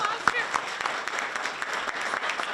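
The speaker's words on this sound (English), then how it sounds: "That deserves a round of applause" Applause at a chamber of commerce legislative breakfast: steady crowd clapping, moderate and somewhat distant, with a voice talking over it throughout.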